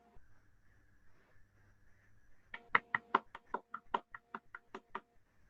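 A dozen quick, sharp knocks in an uneven burst, imitating a round of applause like hooves thumping on crystal, following a brief quiet stretch with faint background hum.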